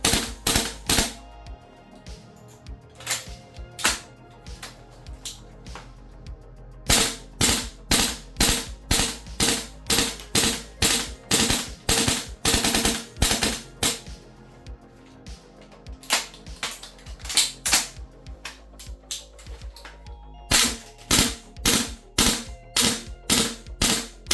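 VFC M733 and Mk18 gas blowback airsoft rifles fire full-auto strings of sharp, rapid clacking shots. Several bursts of varying length are split by short pauses, close and crisp, with no voices.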